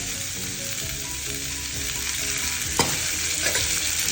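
Shredded cabbage sizzles steadily in hot oil for a chutney, a loud, close and continuous frying hiss. A single scrape of a stirring spoon cuts in near the end, and no one speaks.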